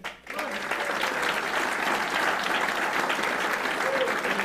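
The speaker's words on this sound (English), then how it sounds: "Please keep your applause going as I call out the names." An audience at a golf classic dinner keeps up steady, even applause, a dense wash of clapping that starts quickly and holds at an even level, with a voice faintly present.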